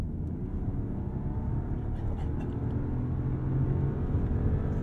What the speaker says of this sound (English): You can't quite forget the twin turbo V12.